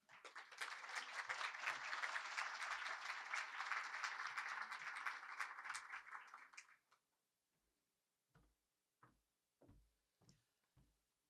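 An audience applauds to welcome Tatiana at an evening gathering, a dense burst of clapping for about seven seconds that fades out, followed by a few isolated taps.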